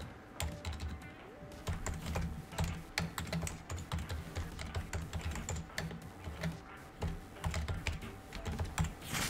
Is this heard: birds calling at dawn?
no